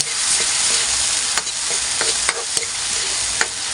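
Squid adobo with tomatoes sizzles continuously in a pan while being stirred, with a loud, steady frying hiss broken by periodic sharp clicks of the utensil against the pan.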